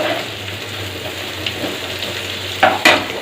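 Boiled potato pieces fry with onions in a pan for a potato kurma, giving a steady sizzle with stirring scrapes and two sharper clatters near the end.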